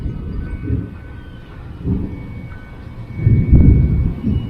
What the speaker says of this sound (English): I like to hear the thunder.